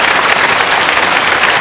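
Audience applause at a dance tournament, a steady dense wash of clapping filling the whole moment at close, even loudness without pauses.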